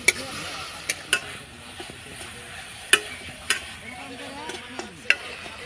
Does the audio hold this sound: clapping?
no